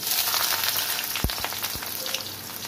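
Chopped onions frying in oil with cumin seeds, a steady close sizzle with a few sharp spatters and stirring knocks.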